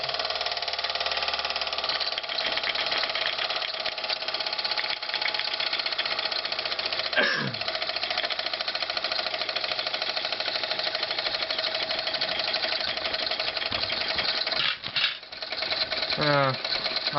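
A model steam engine at full throttle on low pressure runs with a steady, busy mechanical clatter and hiss throughout, winding down slowly, with a brief rising whistle-like sweep midway and a burst near the end.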